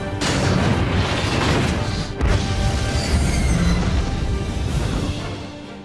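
A loud, sustained roar of an aircraft blowing apart and crashing in a film scene, with dense rumbling booms, a brief break, then continued crashing debris that slowly fades.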